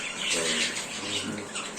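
Budgerigars squawk and chatter in a brief, close, raspy burst of harsh calls, in a small breeding room.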